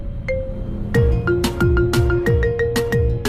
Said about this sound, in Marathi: त्याच क्षणी विशालला एक फोन आला.